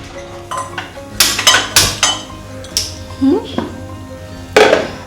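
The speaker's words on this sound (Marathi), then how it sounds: "हे अशी एक छोटीशी कढई घेतली आहे मी" A small kadhai (wok) is set down and handled with clattering metallic knocks and clinks, several sharp hits spread across the moment, while a voice speaks at times in the background.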